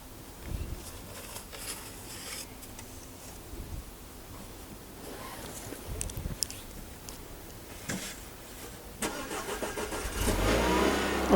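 A Renault Duster starting by remote start on a winter day, the engine catching and settling into a steady idle that grows louder toward the end, heard from outside the car with no talk.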